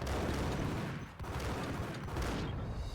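Dense, sustained gunfire erupts in the Max Payne video game, a loud, continuous barrage of overlapping shots with a brief dip in the middle before the firing surges again.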